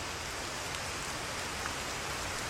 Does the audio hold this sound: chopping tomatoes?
no